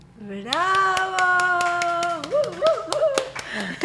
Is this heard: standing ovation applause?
yes